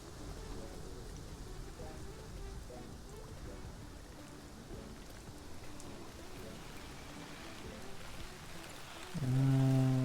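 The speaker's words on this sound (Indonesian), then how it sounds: "Hujan cuy." Steady rain hisses and patters in the Prehistoric Kingdom dinosaur park game, an even wash throughout, cut near the end by a loud low tonal game sound.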